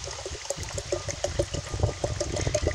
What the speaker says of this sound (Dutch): Zo, nou komt er weer schoon water bij.